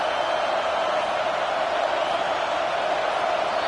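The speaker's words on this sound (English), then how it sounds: "The roar of the crowd trying to fuel this defense to keep them pinned in their own end." Stadium crowd in the college football video game NCAA 25 roars steadily as home fans back the defense on third down, a dense, continuous wall of noise with no pauses and no talk over it.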